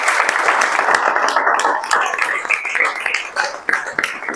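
Clapping from a classroom audience at a coaching institute's results celebration, steady and moderately loud with no talk over it.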